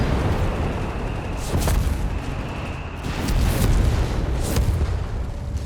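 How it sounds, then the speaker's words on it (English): Three mortar pits keep up a constant bombardment on a Company of Heroes 3 battlefield. Deep, rumbling booms and blasts repeat at irregular intervals over a thick, continuous roar of combat. "We just got those 3 mortar pits just constantly bombarding."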